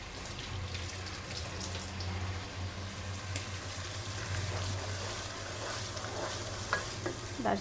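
Cinnamon sizzles and crackles steadily in hot oil while being stirred, a close, continuous frying hiss with a low hum underneath and no voices.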